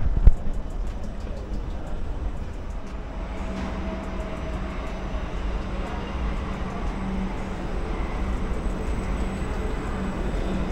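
A Kolkata metro train at Dum Dum station gives a steady low rumble and rolling hum, fairly loud and continuous, with faint clicks and a brief bump near the start.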